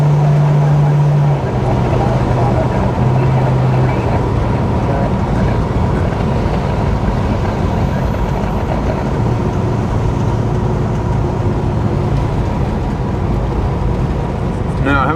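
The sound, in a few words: car driving on a road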